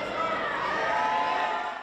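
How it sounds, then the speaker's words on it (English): A loud, dense crowd roars and shouts inside a high school gym at Woodmore High School, steady throughout with many overlapping voices. "It's pretty common to hear a loud crowd inside of the gym at Woodmore High School on Fridays."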